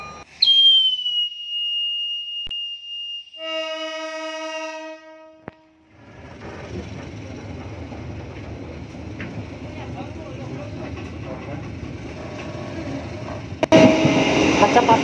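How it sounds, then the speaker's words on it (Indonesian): Tawang Alun passenger train running at 90 km/h between Pasuruan and Probolinggo, with a sharp whistle and a multi-tone horn blast, then a steady rumbling roar of wheels on rail heard from inside, growing louder near the end. "ini merupakan pertama kalinya saya naik kereta api di lintas Pasuruan Probolinggo dengan kecepatan 90"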